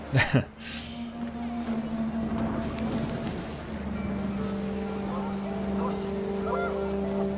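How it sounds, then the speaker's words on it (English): Panicked geese in the video game What Remains of Edith Finch honk through a windy outdoor scene, with a sharp burst at the start followed by steady drawn-out honking tones and windy noise. "Wind picked up, and panicked geese appeared and quickly went."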